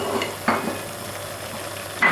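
Browned beef mince is stirred with flour, tomato puree and stock cubes in a pan for bolognese, with a soft sizzle under a few scraping clinks of a spoon against the pan.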